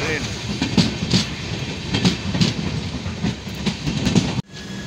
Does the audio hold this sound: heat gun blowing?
no